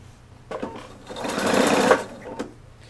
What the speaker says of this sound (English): Now slip in your next piece and start sewing again.